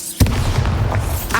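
A single heavy spell blast booms suddenly in the Hogwarts Legacy video game, a deep low impact with a rumbling tail that stays loud for over a second, followed by a brighter crackle at the end.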